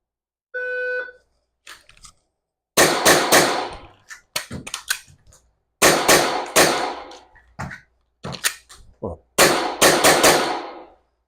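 Pistol gunshots during a speed reload drill fire in quick loud bursts of several rounds each, with short gaps between strings and a brief buzzer-like tone at the start.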